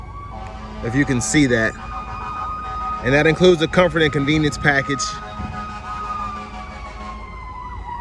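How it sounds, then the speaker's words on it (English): An emergency vehicle siren wails steadily in the background, rising and falling at moderate distance, while someone talks over it in the foreground during a test drive of a 2024 Buick Envision. "please excuse the sirens"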